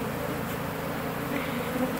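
Honeybees buzz in a dense, continuous drone during removal of a colony from an abandoned house, many insects close by with no pauses and no speech.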